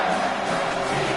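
Roaring football stadium crowd urging on the defense before a red zone stop, a dense, loud, continuous wash of cheering with no breaks.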